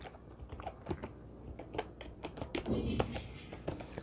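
Typing a name on a computer keyboard in a quiet room, a quick irregular run of soft, close key taps with a brief faint voice.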